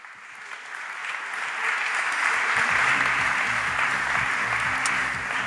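A Paris city hall audience applauds as speakers walk on stage, steady broad clapping that swells and holds, with a low music-like hum joining beneath midway.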